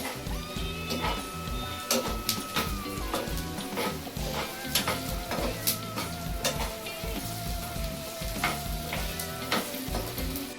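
Melon seeds dry-roast in a pan for dry fruit laddu, giving a steady crackling sizzle with frequent scraping and clinking of a spoon against the pan as they are stirred.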